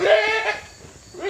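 A billy goat in rut bleats loudly nearby, a drawn-out wavering call followed by a quieter pause and the start of another cry, heard on a farm with no talking.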